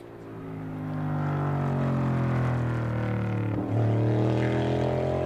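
NASCAR race car engine roaring steadily on a qualifying lap at Milwaukee in 2022, a loud sustained drone with a brief dip and shift in pitch midway as the car slides through a corner.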